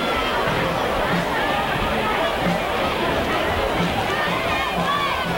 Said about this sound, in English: The crowd on hand for tonight's ball game.